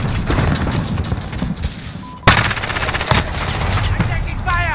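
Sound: gunfire in Call of Duty Modern Warfare video game

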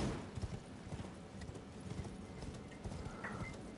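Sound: horse hooves clip-clopping in Elden Ring video game

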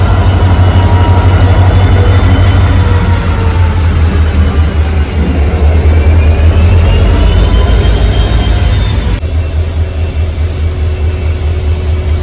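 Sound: freight train arriving for unloading

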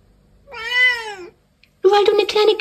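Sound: cat meowing

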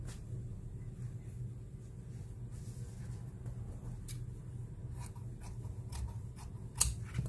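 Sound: scissors cutting Burberry trench coat lining fabric

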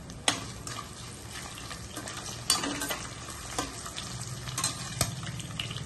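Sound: whole spices frying in hot oil

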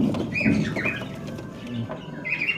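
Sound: pigeons cooing in a pigeon shop

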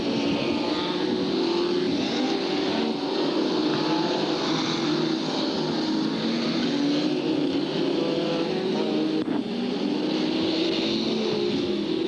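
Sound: Formula 2 race cars driving around the circuit

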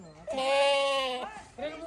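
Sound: goats bleating

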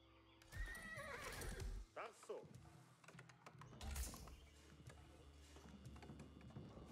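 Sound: horses neighing and hooves, cavalry in Age of Empires 4 video game

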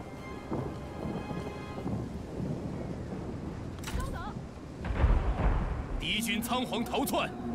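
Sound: rain and thunder in Total War video game

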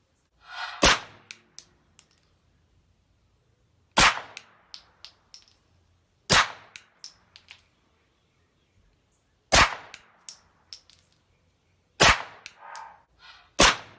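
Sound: gunshots, suppressed versus unsuppressed

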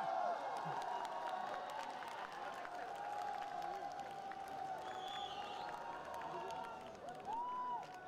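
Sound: audience applause for a rock band

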